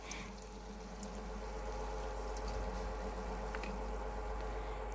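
Lentil batter with egg, shaped into round omelettes, frying in hot oil in a wok-like pan: a soft, steady sizzle with occasional light crackles, fairly faint and continuous.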